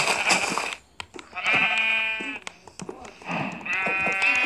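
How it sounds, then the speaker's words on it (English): Repeated Minecraft sheep bleats, loud and close, several wavering calls in a row with brief gaps between them. "I hear a sheep"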